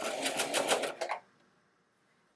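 A sewing machine stay-stitches the neckline of a 1940s-style pajama lounge top, running in a fast, steady burst for just over a second before stopping, then a faint pause and a brief clack at the end.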